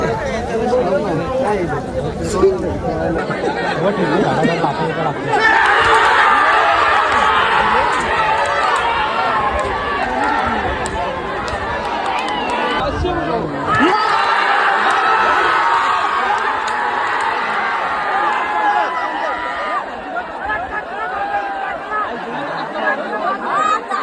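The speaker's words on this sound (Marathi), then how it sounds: "अड्ड्यात जाम गर्दी आहे" A large crowd gathered at a bullock cart race arena in Moho, Panvel fills the air with dense, continuous chatter and shouting, with nearby voices talking over the steady roar.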